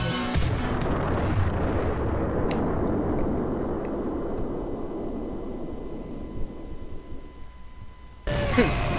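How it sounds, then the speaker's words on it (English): A loud, sustained explosion rumble after a nuclear launch warning in a cartoon parody edit. It roars broadly and steadily for about eight seconds, then cuts off abruptly into a different sound. "Boom! Explosion!"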